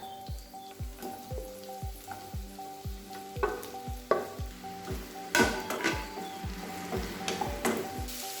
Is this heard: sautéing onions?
yes